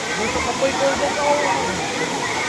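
Malilipit Falls roars as a steady broadband wash of falling water, loud and constant throughout, with a voice talking over it.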